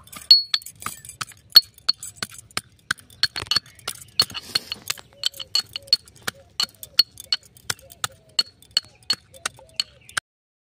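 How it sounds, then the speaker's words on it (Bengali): Jujube berries (kul) are crushed in a mortar and pestle, making around thirty sharp, ringing clinks in an uneven but steady rhythm, close and distinct against an otherwise quiet background. "অনেক কুল নিচের দিকে থেতো হয় না, ভালো করে ঘুরিয়ে ঘুরিয়ে আবার থেতো করে নেব"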